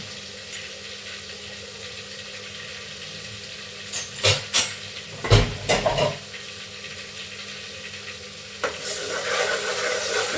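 Food frying in oil in a pan at home, with a steady soft sizzle throughout, a few sharp bursts of stirring and clattering utensils in the middle, and the sizzle swelling louder near the end.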